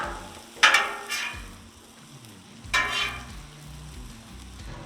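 Sausage frying in a pan, a low steady sizzle close by, with two louder bursts of hissing spatter as it is moved or stirred.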